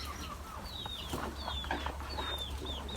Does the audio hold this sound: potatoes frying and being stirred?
no